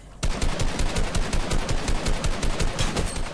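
Rapid automatic gunfire in a video game, a loud sustained burst of evenly spaced shots that continues throughout without pause.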